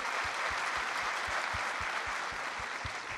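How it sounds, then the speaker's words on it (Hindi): Steady applause from the audience at a literature and culture festival session in Lahore, a dense wash of clapping with a few sharper thumps, continuing evenly throughout without speech. "इनके लिए बड़ी ज़ोरदार तालियाँ बजाइए"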